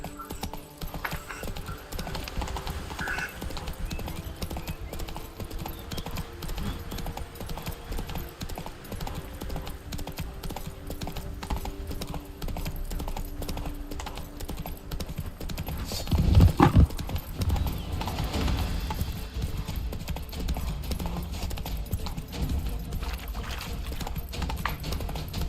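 Hooves beat a steady clip-clop as a horse gallops in the video game The Witcher 3, with a brief snort or whinny midway and occasional talk over the running rhythm.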